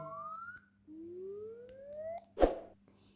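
A phone receiver test plays thin electronic ringing tones that rise in pitch in a couple of sweeps, then a short burst of noise; faint, with a low steady hum underneath and no talking.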